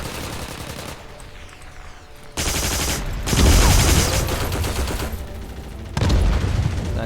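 M2 machine gun hip-fired in the Heroes & Generals video game, loud sustained automatic bursts rattling in rapid rhythm, broken by short pauses between strings of fire.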